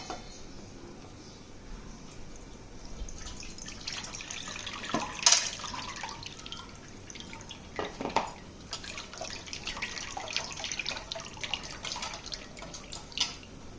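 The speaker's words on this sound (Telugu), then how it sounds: "ఈలోపు మనం చింతపండు రసం చేసేసుకుందాం. ఇది రెడీ చేసేసుకుందాం. కొంచెం వడగట్టేద్దాం." Tamarind juice is strained into a bowl at a kitchen sink, with soft trickles and drips of liquid and a few louder splashy pours that come and go, fairly close and without voices.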